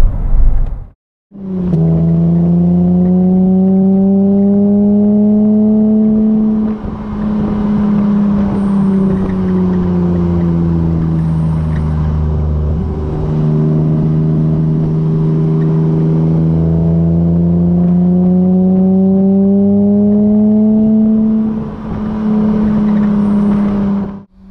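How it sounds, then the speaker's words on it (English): Classic 35-year-old BMW E30 engine at full throttle climbing a steep hill, heard from inside the cabin: a loud, continuous drone that rises slowly over about twenty seconds, dips briefly at a shift, then climbs again, with no talk. "I'm flat on the floor. It's building speed up this quite steep hill, but not ridiculous amounts."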